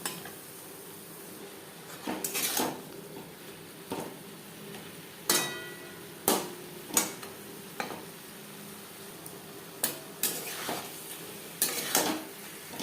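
Marinated chicken for butter chicken cooking in a pan over high to medium flame, a low sizzle beneath intermittent sharp clinks and scrapes of a metal spoon stirring against the pan.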